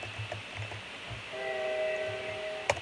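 A video game train horn sounds with steady sustained tones over a low rumble of rolling rail noise, fairly distant and moderately loud.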